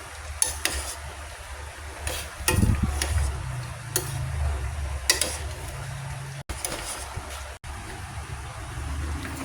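Pakbet vegetables stirred in a pan with tomato juice, a faint scraping and clinking of a utensil against the pan with light sizzling, in a few separate strokes.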